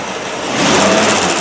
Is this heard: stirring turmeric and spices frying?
no